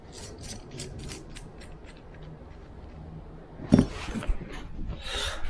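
Close mechanical clicking and rubbing as a part is unscrewed by hand, a soft run of small ticks that turns into a louder rattle and scrape near the end, no talk.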